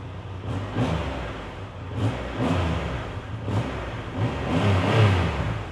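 A 2021 Triumph Rocket 3 motorcycle engine revs up repeatedly, four or five swelling throttle blips with a deep rumbling idle between them, close and fairly loud with no talking.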